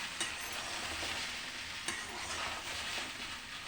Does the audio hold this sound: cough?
no